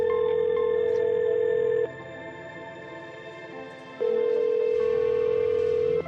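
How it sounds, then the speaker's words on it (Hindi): Telephone ringing unanswered, a loud steady ring tone with a pause before it sounds again, heard close with no one picking up. "कम ऑन यार, पिक अप द फोन।"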